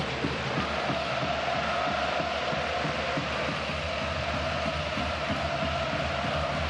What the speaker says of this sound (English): Crowd trying to raise the Los Blancos